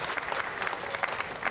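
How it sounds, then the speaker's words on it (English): A crowd at an outdoor Juneteenth rally in Cincinnati breaks into a brief burst of lively applause, with dense clapping throughout and a few faint voices underneath. "Yeah, that's a round of applause."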